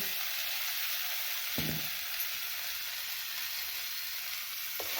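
Green chilies hit a hot pan over a wood-fired village stove while cooking rustic dal pithla, making a steady, close frying sizzle that runs without a break, with no talking.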